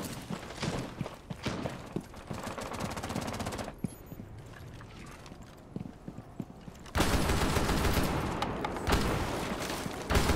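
Rapid gunfire in Rainbow Six Siege, console play, loud bursts and repeated shots across the clip with a denser, louder stretch of firing near the end, no talk over it.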